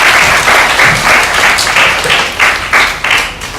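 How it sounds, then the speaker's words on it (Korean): A church congregation at a Philippine mission service breaks into lively applause, the clapping arriving in loud, rhythmic bursts that swell and ebb before tapering off. "박수 한번 쳐줄까요?"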